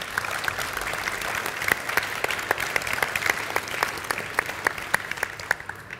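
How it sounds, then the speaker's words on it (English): Sustained applause from an audience at a youth engagement event in Scotland, steady dense clapping with a few sharper claps standing out, continuing evenly throughout. "So if you could give them a round of applause, please."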